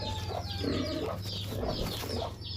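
A chicken clucks repeatedly in short, choppy bursts, close and fairly loud, with a steady low hum in the background.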